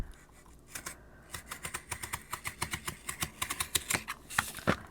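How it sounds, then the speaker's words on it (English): A box knife scores cardboard along a ruler, making quick, close rasping scratches in a fast repeated rhythm that builds steadily, each stroke a short, dry crackle. "I have a box knife, and I do not want to cut through this. I just want to score it."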